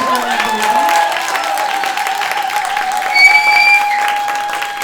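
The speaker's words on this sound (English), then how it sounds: "these kids need a big thunderous applause when they do it." Loud, sustained applause from a large theatre audience at a James and the Giant Peach show, dense clapping that swells slightly before easing, with faint tones ringing underneath.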